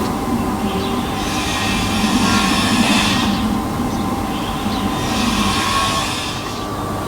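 A model Class 37 diesel locomotive runs along its track, a continuous rumbling hum with a rising and falling whine and light rail rattle, steady and fairly close, with no talking.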